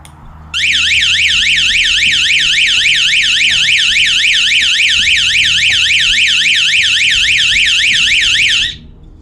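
A loud electronic alarm siren is tested after being hooked up to a motion sensor, wailing in a rapid, even warble for about eight seconds and then cutting off abruptly, with a faint hum in the background.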